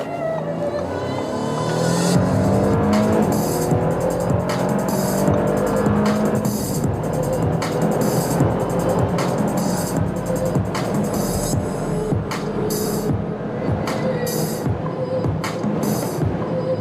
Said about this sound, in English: really stable, nice acceleration from the 3-liter 6-cylinder engine